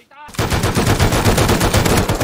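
An automated turret in the video game Rust lets loose with sustained rapid machine-gun fire, a loud, steady stream of shots that starts abruptly after a brief moment of quiet and continues without pause.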